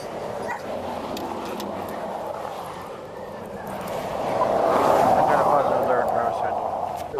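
Police sniffer dog barking and yipping during a roadside vehicle search for narcotics, with steady outdoor noise and people talking; the barks run through the clip and grow louder near the end.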